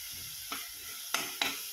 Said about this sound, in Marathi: हे मसाला आपल्याला छान लालसर होईपर्यंत भाजून घ्यायचा आहे मंदाचेवर.